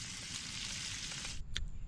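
Food sizzles steadily in a pan at a campsite on Mount Manglayang, a dense, close frying hiss that breaks off near the end into a few small crackles.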